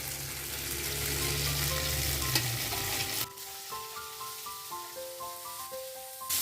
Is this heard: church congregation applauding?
no